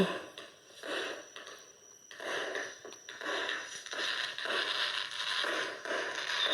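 Distant fireworks finale: a steady dense run of pops and crackles rolls on with a few short lulls, staying fairly faint throughout with no one talking.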